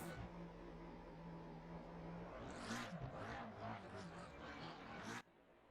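Racing car doing donuts after a race in Assetto Corsa Competizione, engine droning steadily then rising into screeching tyre squeals and revs before cutting off abruptly, quiet under light commentary.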